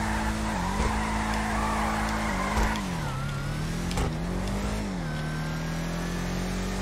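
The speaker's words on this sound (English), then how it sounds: "That supercharger whine too, man." Bravado Gauntlet Classic muscle car in GTA Online drifting, a loud, constant engine drone with supercharger whine that rises and falls between shifts, mixed with tire skidding noise and no talk.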